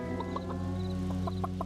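Chickens in Farming Simulator 25 cluck in a series of short, clipped calls over a steady humming background drone, moderately close.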